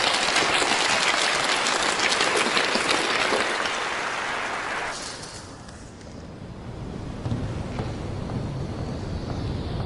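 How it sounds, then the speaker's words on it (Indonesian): Applause from an audience at a stage event, dense clapping that fades midway and then resumes at a lower level, a fairly distant wash of sound. "Tepuk tangan dulu buat nona ini."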